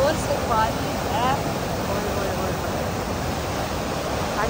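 Loud rushing water at the Head Qadirabad headworks in Pakistan, a continuous broad roar filling the scene, with faint voices over it.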